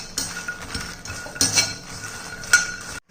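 Ingredients for healthy laddu dry-roast in a kadai, with a metal spoon scraping and clinking against the pan in irregular strokes, close and clear, with a few sharper taps standing out.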